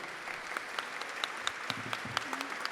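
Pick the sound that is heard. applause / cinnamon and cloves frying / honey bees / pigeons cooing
applause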